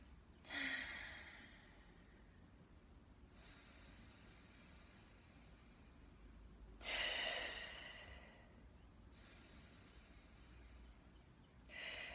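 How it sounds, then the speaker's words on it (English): A person doing a breathing exercise, with two loud breathy exhales or sighs about six seconds apart, separated by softer inhales and quiet stretches, close to the microphone and with no talk. "I do different breathing exercises to circulate the breath"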